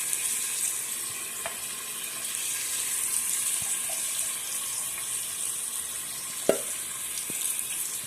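Onion frying in oil for chicken curry gives a steady, fairly loud hissing sizzle throughout, with a few light clinks and taps of a utensil against the pan.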